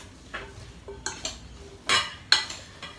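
Burger mix for a homemade 'Big Mic' being worked in a bowl with a utensil, making quiet, intermittent scrapes and clinks in a few short bursts, with no talking.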